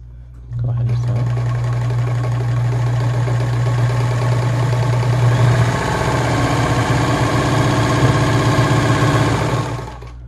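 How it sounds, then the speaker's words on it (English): A Gritzner VZ sewing machine, also sold as the Kenmore 117.740, stitches fabric with a steady, close, loud mechanical whir that runs unbroken for about nine seconds before stopping, with no talking. "As you can see, this machine is very smooth, very quick, relatively quiet for a machine of this type."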